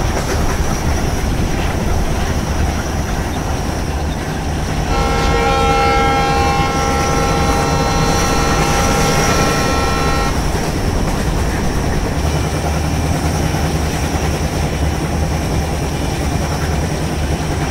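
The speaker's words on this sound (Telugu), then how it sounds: "మొత్తానికి ఆ ట్రైన్ అయితే ఓవర్టేక్ చేస్తున్నాం బ్రో." A train in the Train Simulator game on a Central Railway Indian route rolls steadily along the rails with continuous rumbling wheel noise, and a prolonged horn blast sounds for several seconds in the middle.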